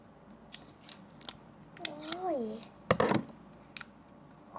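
Scissors cut open a snack package with a series of short, crisp snips spread across the moment, including a louder cluster near the middle. A voice briefly speaks partway through.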